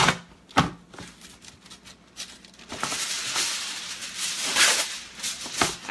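Aluminum foil being handled and crinkled over a metal baking sheet while preparing a pork tenderloin, with a few sharp taps first and then a longer run of close, busy rustling and crackling.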